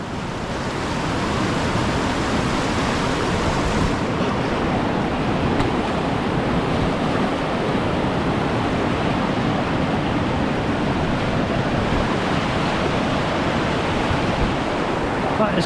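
Cold sea waves wash over feet while wading along a rocky Scottish shore on the NC500 route, a steady loud rush of surf and water churning close by, with wind across the microphone and no talking.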